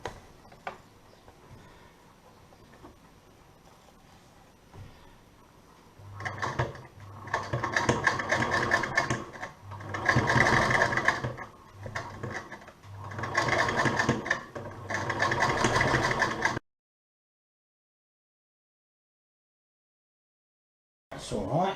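A vintage Singer sewing machine runs a continuous stitch in several loud bursts of rapid, rhythmic mechanical clatter with short pauses between them, then falls silent near the end.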